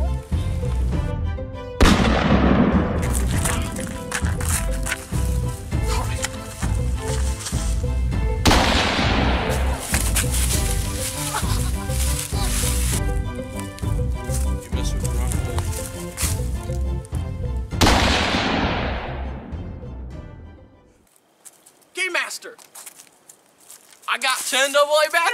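Movie gunfire: long, dense bursts of rapid shots and booms, loud and near, repeating in several waves with voices mixed in, then a quieter stretch at the end.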